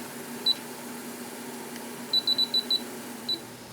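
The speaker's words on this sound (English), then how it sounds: "we are going to go ahead and start our timer for 20 minutes" Kitchen timer beeping beside a pot at a rolling boil while preserving peppers as hot sauce: a single beep, then a quick run of five short beeps and one more, high and clear over a low steady hum.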